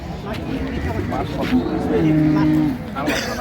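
A bull calf at the Ambari cattle market in Dinajpur lets out a single drawn-out moo, close and loud, amid steady market chatter and nearby talk.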